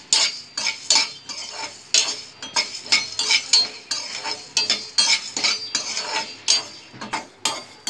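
Coriander seeds roasting and stirred in a pan with a metal spoon, giving repeated scraping and rattling strokes in a steady rhythm, close and fairly loud, with no talking.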